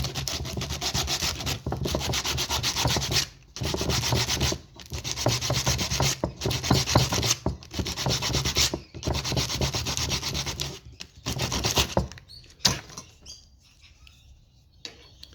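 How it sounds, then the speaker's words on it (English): Sandpaper rasps steadily against a wooden arrow shaft in repeated back-and-forth strokes with short pauses, close and fairly loud, then fades to quiet scraping at the end. "with the sandpaper, just take a little bit off the edges"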